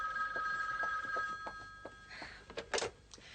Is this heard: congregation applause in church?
no